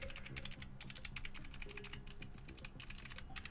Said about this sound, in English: I think it's the keycaps on this keyboard that were so loud.